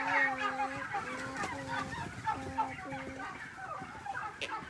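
Turkeys inside a farm barn give repeated gobbles and clucks, a dense flock chorus of overlapping calls with rhythmic pulsing notes, fairly close and steady throughout.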